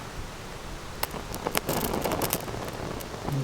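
A Procamptek fast fire stick fire starter burning in windy conditions, crackling and sputtering with sharp pops and hisses, close by, irregular bursts over a steady rushing background.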